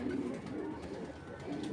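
Giribaj pigeons cooing softly in a low, continuous murmur, fairly faint and close, with no talk.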